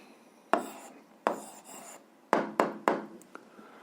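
Pen or marker scratching on a surface while writing down a math answer, in short separate strokes with sharp starts and brief gaps, close and fairly quiet, with no talk.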